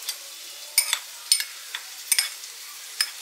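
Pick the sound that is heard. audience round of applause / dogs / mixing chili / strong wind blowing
mixing chili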